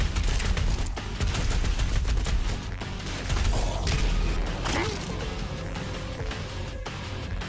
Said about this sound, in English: I'm gonna use it in my chain gun.